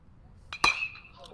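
A baseball bat strikes the ball at a junior varsity high school baseball game: one sharp, bright crack with a short ringing tail, over a low crowd murmur.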